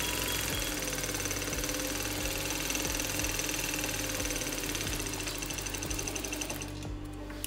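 A sewing machine stitches a pocket onto trousers, giving a steady, close mechanical whir with rapid needle clatter and a regular low knock, running alone without talk until it stops just before the end.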